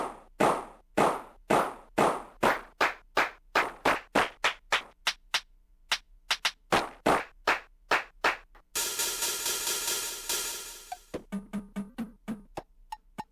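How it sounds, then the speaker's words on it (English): Handclap samples from a Linn LM-1 drum machine snap out in rapid repeated sequences of crisp, close hits, broken by a burst of sustained noisy texture before a few tonal hits end the passage; no one speaks. "These are the claps."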